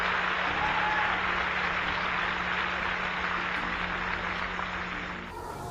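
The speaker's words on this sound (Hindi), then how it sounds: "मुझे नहीं पता आप तालियां क्यों बजा रहे हैं" Audience applause breaks out during a Hindi-language Christian sermon: a dense, steady wash of many hands clapping holds for several seconds before tapering off near the end, with no voices over it.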